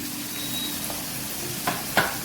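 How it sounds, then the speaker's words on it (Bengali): Coriander and cumin powder frying in a pan give a steady close sizzle, with a couple of short scraping stirs near the end. "ভালো করে মশলাটা কষিয়ে দেবো।"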